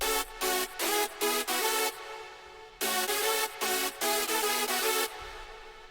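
Hardstyle synth lead and chords, now with reverb and delay, hit in choppy bright stabs whose tails ring on and smear into the gaps between bursts.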